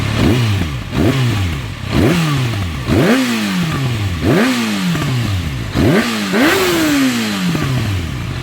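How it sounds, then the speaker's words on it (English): A 2015 Kawasaki ZX-6R 636 motorcycle fitted with a Leo Vince exhaust revs hard about seven times in steady succession, each blip rising sharply then falling back, loud and close with no talking. "So this is with the Leo Vince pan on it. That's what it sounds like."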